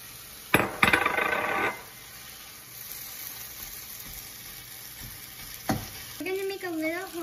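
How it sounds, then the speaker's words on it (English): Rice for fried rice is stir-fried in a pan, with a soft continuous sizzle punctuated by a few sharp clanks of a utensil against the pan and a brief scraping stir. "So now we're going to add the rice."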